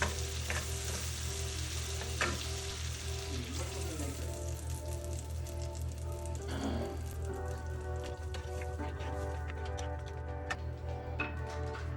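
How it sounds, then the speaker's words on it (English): Heavy whipping cream goes into a hot pan for Tuscan salmon, bringing a steady loud sizzle and bubbling with stirring and utensil clinks, continuous and close. "So now we're gonna start putting our heavy whipping cream."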